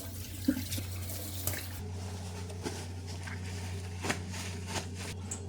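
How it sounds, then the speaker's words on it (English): Water rinsing marinade off an octopus on an outdoor balcony: a steady running-water wash with small splashes and clinks over a constant low hum, no voices. "Rinse the marinade."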